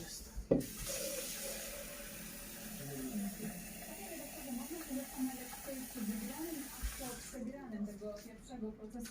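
Tap water runs into a cooking pot for chicken and vegetable rice, a steady hissing stream under continuous talk that stops near the end.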